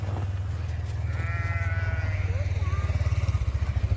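A sheep bleats loudly close by on a snowy farm at feeding time, a long wavering call over a steady low engine-like rumble, with a second fainter bleat following.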